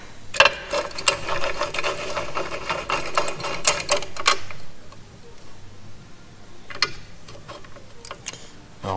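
A Parkside bench drill press works through a piece of standard steel, giving a close mechanical rattling and ticking for several seconds before dying down, then a few sharp clicks later.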